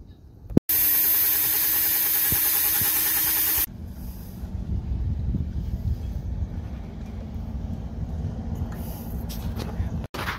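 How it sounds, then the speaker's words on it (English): A loud, steady high-pitched whir of a power drill runs for about three seconds, followed by a lower rumbling hum with faint clicks. "Drill some holes and tap in the bolts."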